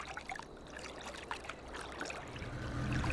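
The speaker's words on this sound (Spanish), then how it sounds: "solamente oyes tu caminar por el mar, como una olita leve" Gentle small sea waves lap and trickle around someone walking through shallow water at a calm Caribbean cay, with soft close splashing that builds slightly toward the end.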